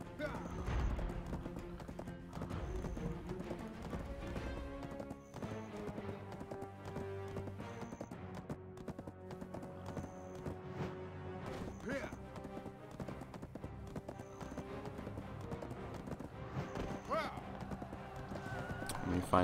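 Horse hooves clip-clop steadily in the online game Black Desert, a rhythmic run of hoofbeats under game music and effects, with someone talking over it.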